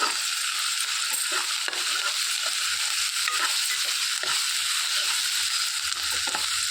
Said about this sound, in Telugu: ఉల్లిపాయలు మంచి రంగు వచ్చే వరకు వేయించేసుకోవాలి